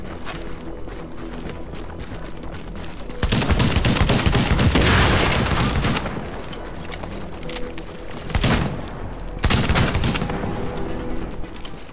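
Bursts of game gunfire from a weak gun, loud dense volleys in two main stretches with quieter gaps between, plus a couple of sharp single shots.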